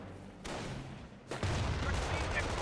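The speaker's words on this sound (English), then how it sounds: "Artillery is running on in" Artillery shells land in a Company of Heroes battle between US and Wehrmacht forces. Two heavy booming blasts hit about a second apart, and a sustained rumble of combat follows.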